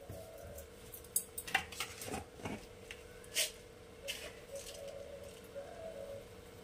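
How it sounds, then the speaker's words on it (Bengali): A spoon scrapes and clinks against a pot while chicken tehari is stirred, a few sharp metallic taps and scrapes spread unevenly over a low, faint background hum. "একটু হালকা হাতে এটা নাড়াচাড়া করে নেব"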